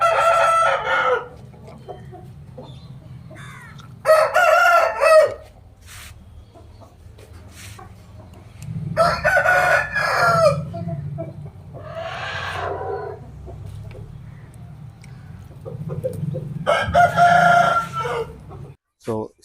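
Domestic chickens cluck and crow in loud bursts close by, separated by quieter gaps over a steady low background hum.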